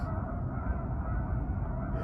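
Canada geese honking outdoors, heard as a dense, rough mass of calls blended into constant broadband background noise for about two seconds.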